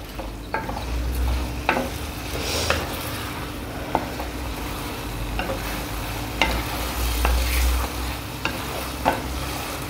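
Soaked rice sautéed gently in a pan for Mexican rice, giving a steady soft sizzle with repeated scraping stir strokes spread across the stretch, close and moderately loud with no talking.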